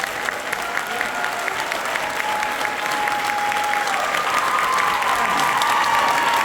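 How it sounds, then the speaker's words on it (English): A large crowd at a high school All County band concert gives sustained, loud applause for the county band directors, steady and even throughout, with faint voices mixed in. "Can we give them a round of applause for their hard work and teaching?"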